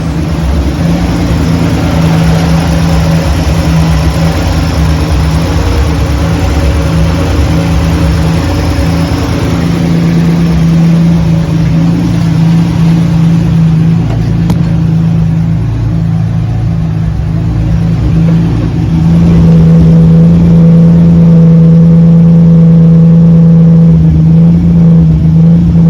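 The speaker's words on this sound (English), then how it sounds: "We're gonna take her for a drive." A Ford Bronco II with a freshly swapped manual transmission driving, its engine a loud, steady rumble that revs and shifts pitch as it pulls, close inside the cab, no talking.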